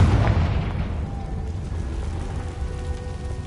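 Confringo blasting spell in the Hogwarts Legacy video game: a loud, deep explosion that bursts at once and then trails off into a long, rumbling low roar over several seconds.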